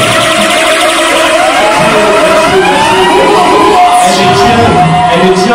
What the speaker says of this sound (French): Est-ce qu'on peut applaudir pour la marraine de la 4e édition?